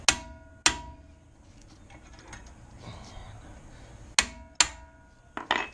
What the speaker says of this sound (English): you just tap the back side of it with a hammer like this